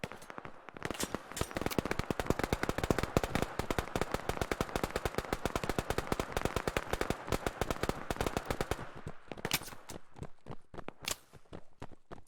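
Sustained automatic gunfire in the video game Operation: Harsh Doorstop rattles continuously for several seconds, then breaks into scattered single shots.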